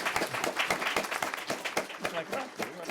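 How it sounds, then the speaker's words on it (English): A live audience at a World Affairs Council evening talk in Washington, D.C. gives warm applause, with crisp individual claps in a steady patter and some voices in the background. "let's give a warm round of applause to our two speakers"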